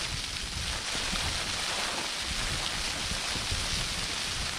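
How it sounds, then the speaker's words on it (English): Strong wind gusts buffet a pitched tent on a snowy mountainside at night in the Lake District, a loud continuous roar of flapping fabric and rushing air with no voices. "You might hear some gusts coming through."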